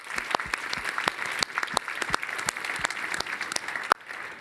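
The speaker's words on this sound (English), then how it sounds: "give yourselves a round of applause." An audience at a patient community day event gives a round of applause: scattered, distinct hand claps over a thinner crowd clapping bed, fairly moderate in level and steady, with one sharp clap near the end.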